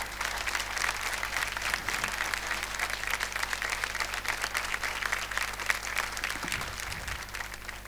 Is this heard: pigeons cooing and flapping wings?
no